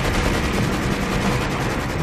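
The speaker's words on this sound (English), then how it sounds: "In the early days of air combat, dogfighting was done close in with guns." Aircraft guns fire during a close-range dogfight, a loud, continuous, rapid roar of shots with a pulsing texture that fills the whole short stretch.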